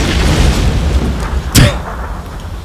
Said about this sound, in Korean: 어, 수류탄!